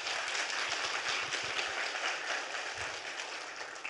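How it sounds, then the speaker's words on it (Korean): A church congregation at a Friday evening worship service claps together in a steady, dense round of applause that stays even and fairly loud for a few seconds. "우리 하나님께 박수로 영광 돌리겠습니다."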